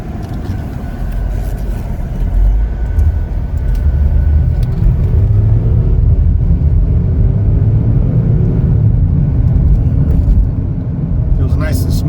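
A 2021 Chevrolet Equinox LS on a test drive, heard from inside as a steady, loud low rumble of engine and road noise with slight changes in pitch, continuous throughout.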